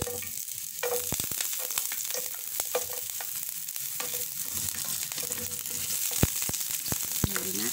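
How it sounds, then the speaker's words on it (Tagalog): Onions and garlic sauté in a frying pan for pork and bean pochero, with a steady, even sizzle and occasional soft stirring scrapes and clinks throughout. "At dito na tayo magkikisa ng garlic. Unahin muna natin yung onions."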